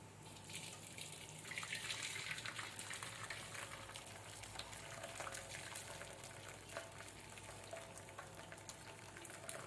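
Cooked palm sugar syrup strained for Palembang pempek vinegar, a steady close pouring and trickling of liquid running through a strainer, continuous and fairly even for several seconds.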